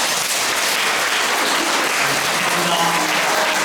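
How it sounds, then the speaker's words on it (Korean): Steady, dense applause from a lecture audience fills the room at the close of a talk on the New Right and pro-Japanese government conduct, loud and continuous throughout with no break. "그동안 수고해주신 호사카 유지 선생님께 박수"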